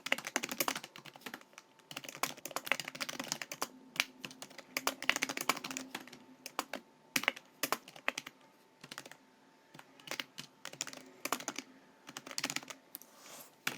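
Rapid bursts of clicking on a computer keyboard while Python tutorial notes are typed, with dense flurries of keystrokes broken by brief pauses, close and moderately quiet, with no speech.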